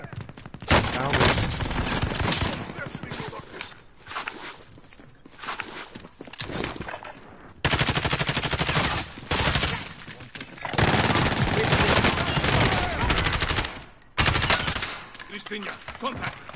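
Bursts of automatic gunfire in a PS4 shooter game, long rattling volleys broken by short pauses, loud and dense, with faint voices underneath.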